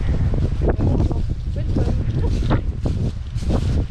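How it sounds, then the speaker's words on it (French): Strong wind and rain buffet the microphone in heavy gusts, with a rushing outdoor roar and voices talking underneath. "Il y a trop de vent, il pleut trop."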